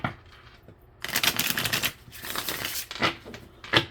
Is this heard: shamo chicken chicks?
no